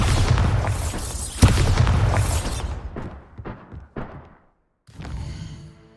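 The Bombarda spell in Hogwarts Legacy detonating as a loud, close booming explosion with a rumbling blast that decays over a few seconds, followed by a short pause and a fainter magical shimmer.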